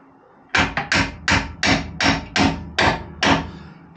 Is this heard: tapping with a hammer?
yes